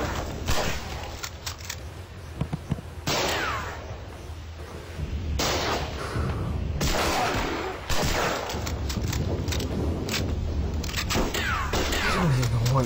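Gunfire and explosive booms from the video game Mud & Blood 2 keep up a dense, continuous barrage with heavy low rumble, while a voice talks over the noise.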